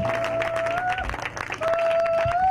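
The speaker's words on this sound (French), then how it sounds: "Acclame très fort pour sa présence." A church congregation applauds and cheers during a worship program, a dense, steady wash of clapping and crowd voices with a sustained musical tone running underneath.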